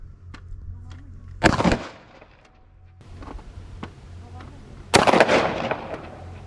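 A Khan Arms Matrix cantilever barrel shotgun with a red dot sight fires at a target: two loud, sharp blasts about three and a half seconds apart, each with a short ringing tail over quiet outdoor background.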